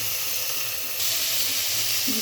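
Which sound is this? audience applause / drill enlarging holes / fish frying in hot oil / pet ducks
fish frying in hot oil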